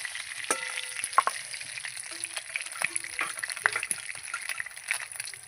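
Tengra fish frying in hot oil, a close, steady sizzle broken by several short spatters and soft clinks of a utensil or pan, with no talk over it.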